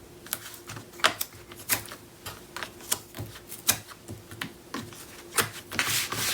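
Adhesive tape pressed and rubbed down over pieces of chipboard for a mini album base, giving a series of short scratchy rubbing strokes at an uneven rhythm, close and moderately loud, with no talking.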